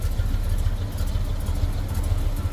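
A car idles after a full engine swap, cold, with a big cam giving a steady, loud, deep lumpy rumble throughout, no talking.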